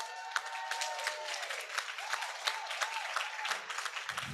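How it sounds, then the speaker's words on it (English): An audience at an NHS conference claps for the morning's speakers, a soft, fairly distant spread of handclaps with some faint tonal sounds underneath, holding steady for about four seconds. "can we have a round of applause for all the speakers in the morning, please?"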